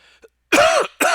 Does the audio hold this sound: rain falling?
no